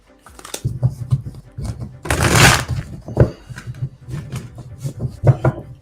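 Tarot cards are shuffled in repeated quick riffling bursts, close and fairly loud, with one longer, louder rush partway through.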